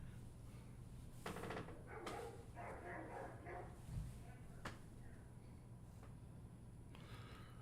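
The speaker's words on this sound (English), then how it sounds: "It's my neighbor's dog." A neighbor's dog barks several times from some distance away, sharp yaps scattered over a steady low hum, with faint speech in the background.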